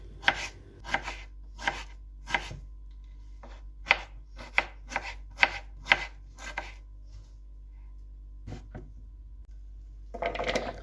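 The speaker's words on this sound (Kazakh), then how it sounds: "2 дана ірілеу картопты алып, оны да кубиктап, ұсақтап турап аламыз" A knife chops two large potatoes into small cubes on a board. There are about ten crisp, close chops in an irregular rhythm, a short pause, then more cutting at the end, with no talk.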